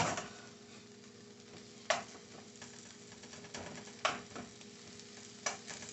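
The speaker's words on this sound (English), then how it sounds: "Let the vegetables go for a bit on pretty high heat" Green beans, sugar snap peas and broccoli stir-frying on high heat for a budget lo mein, giving a steady close sizzle broken by a few sharp scraping stirs.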